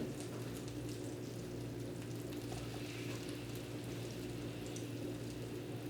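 Egg-soaked French toast frying in a buttered pan gives a steady, even sizzle with a faint crackle on top, holding at one level throughout with no pauses.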